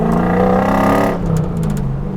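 Mazda engine sourced from a luxury car revving high on light throttle, a loud, harmonic-rich whine sustained for about a second before dropping off into a lower idle-like drone with brief sharp mechanical clicks.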